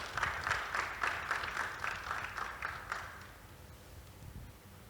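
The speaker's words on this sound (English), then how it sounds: "A warm round of applause for him" A conference audience applauds a tech founder called to the stage, a steady mid-distance wash of clapping that holds for about three seconds, then thins and fades away.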